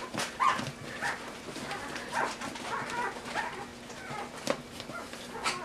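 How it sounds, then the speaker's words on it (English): Several puppies from a younger litter, a few weeks old, whimper and give small yips and barks at a distance, faint and scattered against steady room noise with no talking. "Okay, you hear that? Other puppies?"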